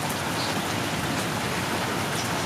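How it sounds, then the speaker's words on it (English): Steady, dense rain pours down during a tornado-warning storm, a constant close hiss of drops on surfaces with no break or voice over it. "Oh, it's raining now."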